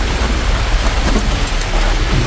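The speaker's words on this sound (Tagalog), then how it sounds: "Umuulan na." Steady, heavy rain pours down, a dense hiss of drops on surfaces with a deep low rumble underneath, no voices.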